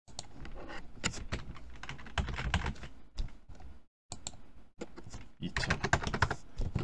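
Rapid keystrokes clatter on a computer keyboard while entering data in accounting software, dense bursts of typing with a brief pause midway, heard under a speaking voice.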